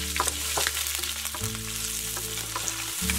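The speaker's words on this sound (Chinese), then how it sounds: "热油，先炒葱蒜辣椒。" Scallion, garlic and chili sizzle and crackle steadily in hot oil as they are stir-fried, with a low hum underneath and occasional scraping of the spatula.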